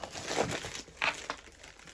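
Plastic parcel bags from a postal delivery crinkle and rustle close by while being unpacked, in irregular bursts of crackling with short quieter gaps between handlings.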